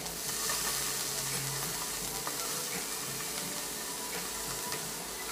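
Big chunks of steak sizzling in a pan, a steady close hiss and crackle of frying with occasional stirring clatter.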